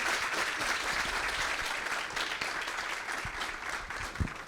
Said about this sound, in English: can we give Aaron a round of applause?